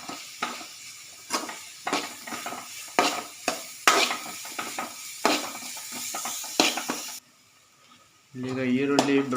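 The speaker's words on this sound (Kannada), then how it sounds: "ಬ್ರೌನಿಷ್ ಕಲರ್ ಬರುವ ತನಕ ನಾವು ಫ್ರೈ ಮಾಡಬೇಕು." Onions fry in a hot pan while a spoon stirs them in repeated scraping strokes over a hiss of frying, with a short pause and then a voice speaking near the end.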